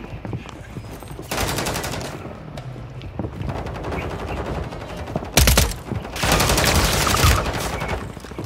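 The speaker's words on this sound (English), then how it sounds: "Shit, man, I'm taking fire." Automatic gunfire in the video game Warzone, several long, loud bursts of rapid shots separated by short gaps, with a heavy close blast in the middle.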